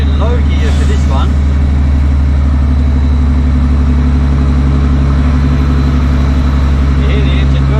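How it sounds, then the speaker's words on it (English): A road train truck engine labors in low gear up a big hill on the road to Perth, a loud steady droning rumble filling the whole stretch with constant strain. "You hear the engine working."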